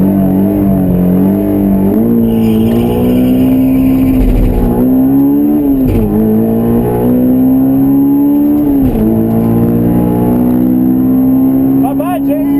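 A Honda S2000 autocross car on all-season tires accelerates hard on a drag strip, its engine roaring loud and close and rising in pitch through several gear changes, with brief dips at each shift.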